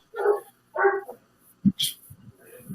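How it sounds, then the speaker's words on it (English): A dog barks twice, two close, clear woofs in quick succession, followed by a few softer sounds and faint background noise. "There's a dog."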